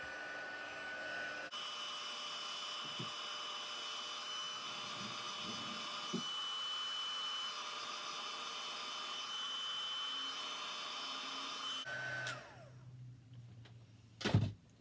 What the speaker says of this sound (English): If you have a heat gun, you can